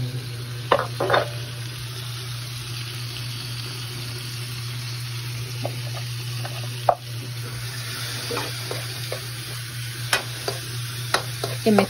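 Marinated meat sizzles steadily in a hot pan at home with a constant frying hiss, broken by occasional scraping clinks of a utensil stirring it, close and moderately loud with no talking.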